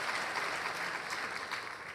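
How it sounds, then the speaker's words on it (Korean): A church congregation at a Sunday worship service claps together in a dense, steady round of applause that holds at an even level for the full two seconds. "来给大家一个最热烈的鼓掌"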